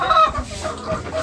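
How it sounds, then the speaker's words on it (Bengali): A large rooster of about 2.5 to 3 kilograms calls out nearby at a farm, a short, loud, raspy cry lasting barely over a second. "এই যেটা ডাকতেছে, এটা বিশাল মোরগ"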